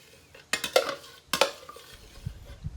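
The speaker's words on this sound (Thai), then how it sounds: "ส่วนผสมของเราเรียบร้อยแล้วนะคะนำมาใส่หม้อผสมได้เลย คนทุกอย่างให้เข้า" Iced coffee mixture being stirred in a mixing pot, heard as two bursts of utensil scraping and clinking against the pot, followed by softer low knocks.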